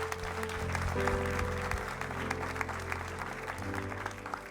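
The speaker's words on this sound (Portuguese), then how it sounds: "A igreja pode dar uma salva de palmas pela vida deles?" Church congregation applauding during a service, a steady mass of clapping under sustained organ or keyboard chords, moderately close and even in level throughout.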